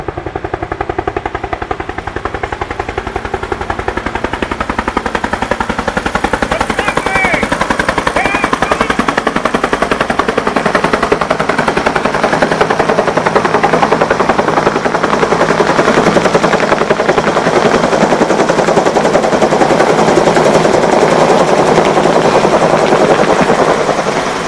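A Huey helicopter's rotor chops loudly and continuously throughout, the rapid thudding beat staying close and strong the whole time.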